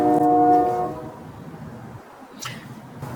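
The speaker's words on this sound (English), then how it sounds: "oh, I'm so sorry about the train." A train passes with a short horn blast at the start, then a low rolling rumble of wagons continuing steadily at moderate distance, with no talk.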